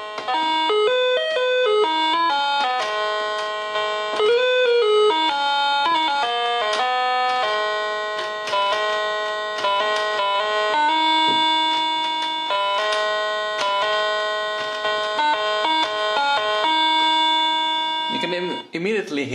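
A cheap toy piano in piano mode plays a quick run of single electronic notes, monophonic and bright, with tonal beeps of steady pitch repeated in a lively melody for nearly twenty seconds, loud and close with nothing else over it.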